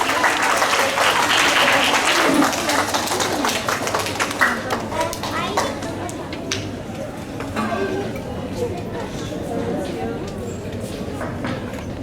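Loud audience applause at a school inter-house Hindi recitation competition, dense clapping that fills the space and slowly thins out over about twelve seconds.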